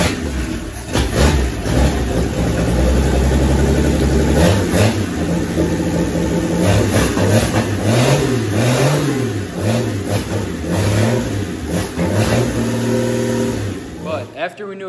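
A cheap $100 Marketplace engine hangs from an engine hoist, running and revving hard. Its pitch swells and falls in repeated throttle blips, loud and close, steady for nearly fifteen seconds before cutting off abruptly.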